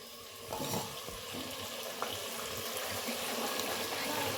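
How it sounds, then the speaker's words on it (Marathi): Masala paste with tomato sautés in a pan while making dum biryani, a soft, continuous sizzle under occasional stirring knocks and scrapes, close and fairly quiet, with no voices. "ही पेस्ट टाकून परतून घेऊ"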